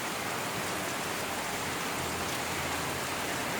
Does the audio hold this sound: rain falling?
yes